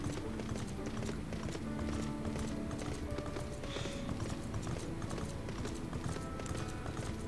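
Metal horse mount's hooves clip-clopping in Final Fantasy XIV, a steady rhythmic trot running throughout under game music and ambience, moderately loud and close.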